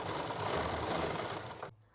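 A sewing machine stitches around a garment neckline, a close, loud, rapid mechanical clatter running steadily for under two seconds before stopping abruptly.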